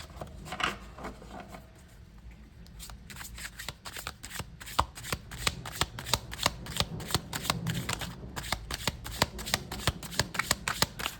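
Tarot cards riffled and shuffled over and over, a long run of quick crisp flutters and taps that grows denser and steadier after a quieter start, close by with no talking.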